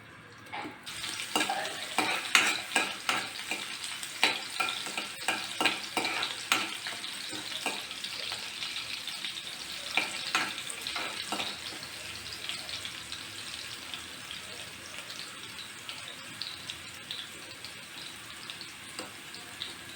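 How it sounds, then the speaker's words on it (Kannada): Crushed garlic frying in two spoons of oil for a greens and field-bean bassaru tempering, a steady close sizzle broken by repeated sharp stirring scrapes and clicks, with no talking. "ಎರಡು ಸ್ಪೂನ್ ಎಣ್ಣೆ ಹಾಕಿದ್ದೀನಿ ಒಂದು ಗೆಡ್ಡೆ ಬೆಳ್ಳುಳ್ಳಿ ಜಜ್ಜಿರೋದು"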